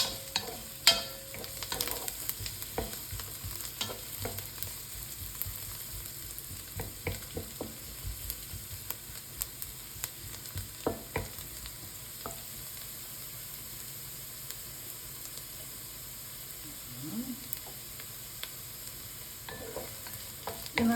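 Garlic and onion sauté in a pan for pork ribs with tomato, a steady close sizzle broken by frequent scraping stirs and clinks of the spatula, with no talking.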